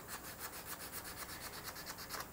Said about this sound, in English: So let's get sanding, you guys.